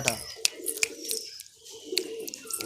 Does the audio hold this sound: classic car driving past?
no